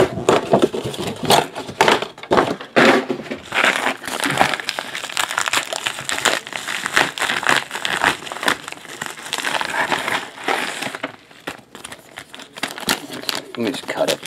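Sticky plastic baseball card pack wrappers are torn and crinkled open during a 2018 card break, with close, busy crackling and rustling bursts throughout while a person talks over them.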